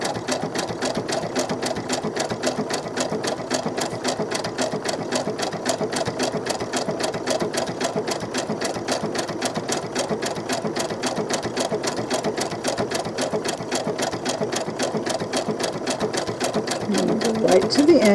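A sewing machine runs steadily, stitching seams on small pieces of doll-clothes fabric. Its rapid, even needle chatter stays close and fairly loud for the whole stretch, with a soft voice underneath at times.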